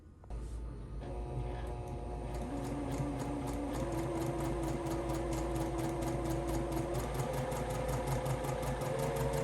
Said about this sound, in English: let's take it to the sewing machine. We'll sew around the shape.